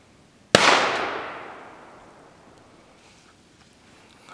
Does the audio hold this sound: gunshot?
yes